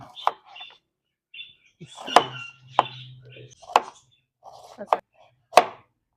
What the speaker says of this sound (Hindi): एक अदद मैंने प्याज ले ली है, इसको हम ना लंबाई में इस तरह काट लेंगे